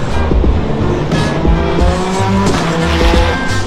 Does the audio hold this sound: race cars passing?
yes